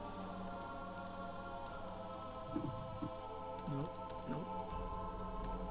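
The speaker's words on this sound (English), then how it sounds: "Here, I'll type it in the chat." Keyboard typing in short clustered bursts of soft clicks, faint under a steady background hum.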